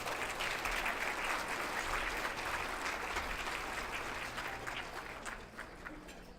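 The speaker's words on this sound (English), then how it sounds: "So let's give a big round of applause to Adrian LaChance." Sustained audience applause at a regional Aboriginal recognition awards ceremony, a dense wash of clapping from a crowd that holds steady and then gradually tapers off toward the end.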